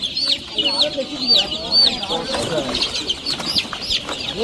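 High, rapid peeping of many chicks fills the air alongside a few low hen clucks, with faint voices murmuring in the background at a village chick distribution programme.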